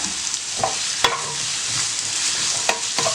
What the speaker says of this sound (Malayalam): എണ്ണ ചൂടായിട്ടിട്ട് നമുക്ക് സവാള ഇട്ട് കൊടുക്കാം.